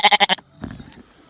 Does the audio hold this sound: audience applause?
no